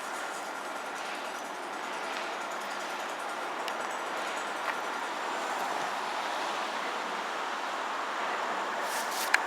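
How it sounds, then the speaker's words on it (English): Chiltern locomotive 68013 runs past the Cradley Heath level crossing, a continuous broadband rumble and rush that holds at a steady level throughout, with a faint click near the end. "we got Chiltern 68013"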